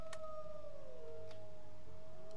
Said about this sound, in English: I feel like those wolves